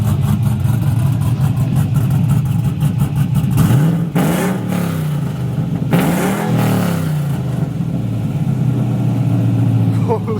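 A pickup truck's engine fires up and revs hard in a couple of loud, rising bursts, then settles into a rumbling idle close by, with voices faintly in the background.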